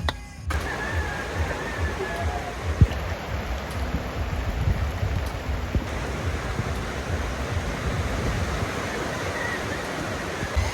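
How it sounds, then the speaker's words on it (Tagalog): Sudden heavy rain pours down in a dense, steady roar of broadband hiss, continuous and fairly close, with a few faint knocks and thuds underneath. "Sa hindi inaasahang biglang bumuhos ang malakas na ulan."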